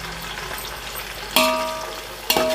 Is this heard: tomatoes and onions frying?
yes